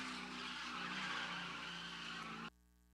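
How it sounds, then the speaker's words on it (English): A Ford Mustang drifts around a drift pit, its tires squealing steadily over a loud engine drone for about two and a half seconds before cutting off abruptly, heard from a distance with no voices. "Kyle Rusty just letting this Mustang have it."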